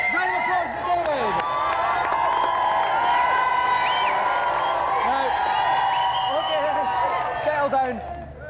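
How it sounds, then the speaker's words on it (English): A studio audience at a televised karting game show breaks into sustained applause and cheering, loud and continuous with whoops rising above the clapping. "Round of applause for David."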